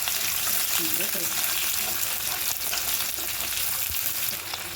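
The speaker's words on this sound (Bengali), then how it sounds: "একটু ভাজা হয়ে যায়।" Onion, ginger and garlic sizzle steadily in hot oil for a fish-head dal, a dense close crackle that runs throughout with a few faint stirring knocks.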